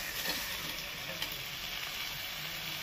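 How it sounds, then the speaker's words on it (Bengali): Fried pointed gourd and potato pieces go into a hot pan of cooked-down spices, setting off a steady, close sizzle with brief stirring scrapes. "এইবার ভাজা পটল আর আলুটা দিয়ে দেবো।"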